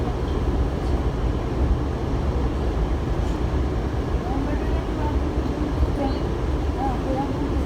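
Inside a moving Kawasaki subway car at moderate speed, a steady low rumble of wheels and motors fills the car with faint squeals, while a person talks over it.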